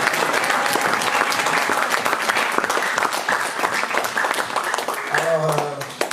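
A church congregation applauding at a French-language worship service, dense sustained clapping from a large crowd, close and loud, with voices calling out and a brief sung or spoken note near the end.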